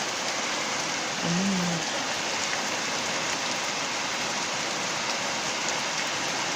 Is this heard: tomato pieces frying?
no